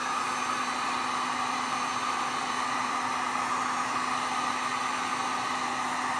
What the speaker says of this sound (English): So I'm gonna use my heat gun, I'm gonna blast it